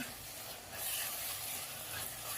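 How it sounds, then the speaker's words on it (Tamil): Onions and tomatoes sauté in hot oil in a pan for a South Indian karakuzhambu, giving a soft, steady sizzling hiss that stays faint and even throughout. "போட்டு நல்லா வதக்கிக்கலாம்."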